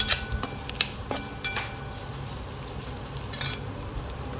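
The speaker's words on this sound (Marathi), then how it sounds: "त्याच्यामध्ये आता आपल्याला थोडेसे तेल पण टाकायचे. ते मस्त भाजून घ्यायचे." Onion, garlic and coconut roast in oil for misal masala, a low steady sizzle under a few sharp clinks and scrapes of a utensil against the pan, clustered at the start and near the end.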